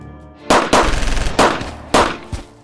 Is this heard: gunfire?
yes